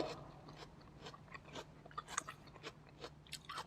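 Crisp, sweet, chilled yacon (snow lotus) being bitten and chewed up close, a series of quiet crunchy snaps and moist chewing sounds spread irregularly, with no talking.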